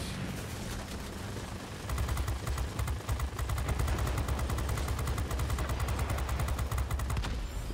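A P-51D Mustang's machine guns in World of Warplanes open up in a long, rapid, evenly pulsing burst after a short lead-in of engine drone, the fire holding loud and steady nearly to the end.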